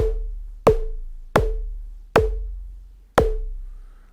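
Five synthetic drum hits from a Nord Micro Modular patch, each a sharp click with a short pitched sine-wave tone that decays, evenly spaced about once every seven-tenths of a second.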